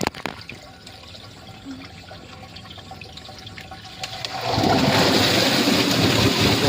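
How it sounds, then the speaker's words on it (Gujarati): An irrigation valve on a farm is opened, with quiet trickling and faint clanks before water suddenly surges into a loud, steady rushing gush that continues to the end, without any talking. "વાલ ખોલી દીધો એટલે પાણી જવા માંડ્યું"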